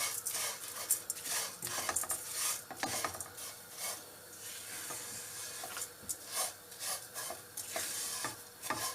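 Vermicelli (seviyan) frying in a pan while being stirred, continuous crackling sizzle with repeated rhythmic scraping strokes of the spatula, close and fairly clear, no talking.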